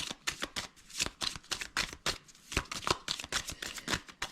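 A Lenormand card deck is cut and handled at close range. Quick, crisp riffling and snapping of cards comes in dense bursts, loud against a quiet room, with no voices.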